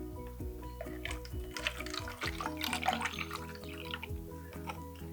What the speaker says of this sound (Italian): Inseriamo dell'acqua.